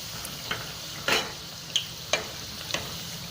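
Sabudana vada fry in oil over a low flame, a steady gentle sizzle punctuated by several crisp ticks and pops, close and clear with no talk.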